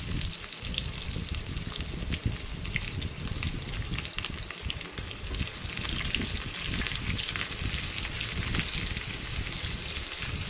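Chopped large onions frying in hot oil for a cucumber chutney tempering, giving a steady, close, dense sizzle and crackle that runs unbroken with no talking.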